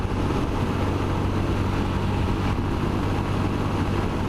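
A Royal Enfield Scram motorcycle engine runs in fourth gear at around 60 mph, a dense, unbroken drone blended with heavy wind rush, loud and constant throughout.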